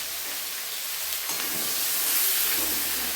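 Potatoes, carrots and beans sauté in a pan with turmeric and salt for a winter vegetable khichdi, giving a steady, close sizzling hiss that rises slightly and holds throughout.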